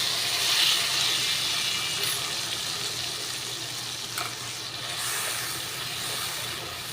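Spice paste for a katla fish curry sizzling in a pan over a low gas flame, a steady soft hiss and crackle that continues throughout, with brief sharper spits.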